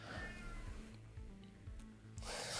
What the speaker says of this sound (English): He's meowing a lot.